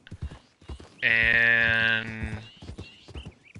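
Horse hooves clip-clopping in the Red Dead Redemption 2 video game, a steady run of hoof beats under a sustained harmonic horse call, with brief talk around it.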